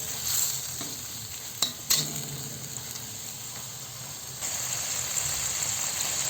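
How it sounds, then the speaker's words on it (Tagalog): Pork, potatoes and carrots sauté in a pan with a steady soft sizzle, punctuated by a couple of sharp clinks of a utensil stirring against the pan, close up and without voices. "gisayin lang natin yan ng 3 minuto"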